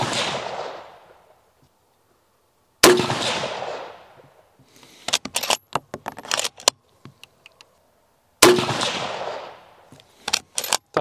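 Three sharp, loud rifle shots spaced a few seconds apart, firing Sierra MatchKing bullets in a .308 Win versus 6.5 Creedmoor test, each with a long reverberating tail, plus some clicking and handling noises in between.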